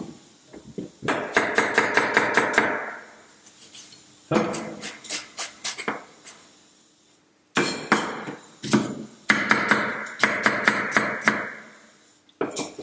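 Rough chopping of ingredients with a knife on a cutting board for Hungarian yellow pea soup, in bursts of rapid, sharp, evenly spaced knocks with short pauses between runs, close and fairly loud, no talking.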